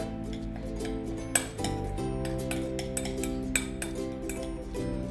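A spoon clinks and knocks against a bowl while mushroom stuffing is stirred, with repeated sharp metallic taps over a steady background hum.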